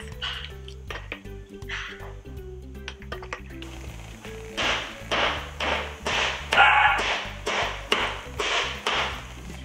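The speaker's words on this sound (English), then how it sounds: "While my husband is chopping the mango" A knife chops mango on a board in a home kitchen, producing a steady series of sharp, close taps and thuds in a regular rhythm that grows louder toward the end.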